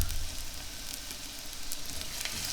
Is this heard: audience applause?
no